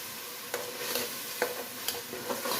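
Half-browned onion with garlic-ginger paste frying and being stirred in a pan for aloo palak, steady sizzle broken by several sharp scraping stirs of the spoon, close and moderately loud, with no talking.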